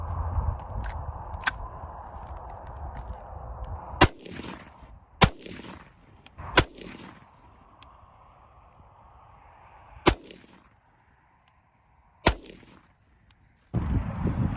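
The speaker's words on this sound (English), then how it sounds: "So I also have some Norma 223 we're going to shoot at the target" Rifle shots fired at a target with Norma .223 ammunition, five or six sharp, loud cracks spaced irregularly over a steady outdoor background hum, with no talking.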